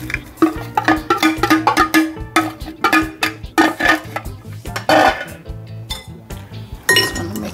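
Banana bread batter of dry and wet ingredients stirred in a bowl, the spoon clinking repeatedly against the bowl's sides in quick, rhythmic strokes with brief pauses, close and clear.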